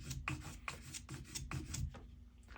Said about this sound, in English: I'm going to come in here and kind of sand this down a little bit.